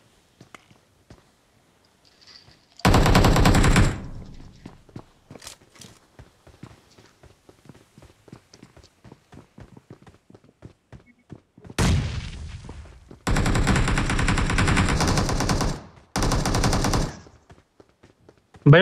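Gunfire in the PUBG Mobile battle royale game comes as several loud, rapid automatic bursts, one near the start and three more toward the end, with faint scattered shots and clicks in between.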